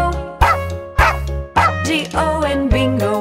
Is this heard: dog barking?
yes